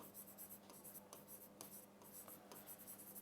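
Steady scratchy marker strokes sound on a board in an English grammar class, close and continuous with short rhythmic pauses and no talk.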